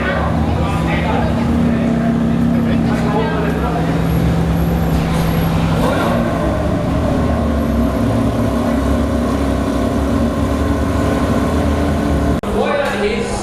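A racing car reverses through the pits at a Ferrari night at Sydney Motorsport Park. Its engine rumbles loud and steady up close, with a brief hiss near the end.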